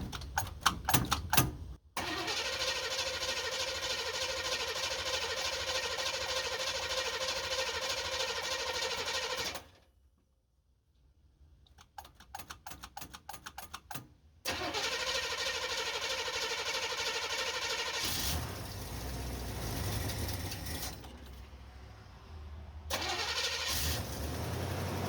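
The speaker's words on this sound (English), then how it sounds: "It'll take a few times turning over because it's been sitting for a little while." A 1964 Chevrolet Impala that has sat for a while cranks over repeatedly in long loud bursts with brief pauses, then catches and runs, settling into a steady close idle.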